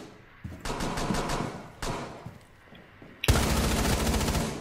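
Video game gunfire: bursts of rapid automatic shots broken by brief pauses, then a sudden louder, sustained volley near the end, with no voices over it.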